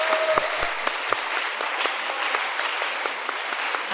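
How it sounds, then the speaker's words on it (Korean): A congregation at a Wednesday church service in Korea applauds students after a hymn, a brisk crowd of clapping hands with a few sharper nearby claps standing out, steady and fairly close. "우리 10학년 학생들을 위해서 한번 박수할까요?"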